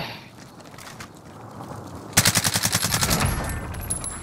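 Rapid automatic gunfire from a powerful gun in a battle royale video game, a sudden loud burst of about a dozen shots after a quieter stretch of ambient game noise.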